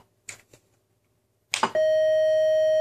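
An Atari BASIC program generates a sustained electronic tone with its distortion setting changed, starting abruptly after some faint clicks and holding steady and loud to the end, with no talking.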